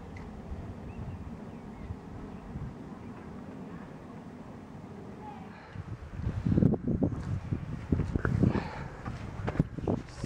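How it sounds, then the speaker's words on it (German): Steady rumbling wind buffeting a microphone, growing louder and gustier in the second half, with no speech. "Dieser Wind heute wieder"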